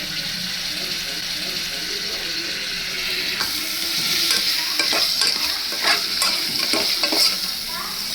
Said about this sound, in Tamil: டொமேட்டோ வதங்கிட்டோம்